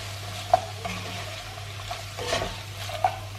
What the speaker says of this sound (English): Now I'm just going to cook this for about 2-3 minutes. So just give it a stir.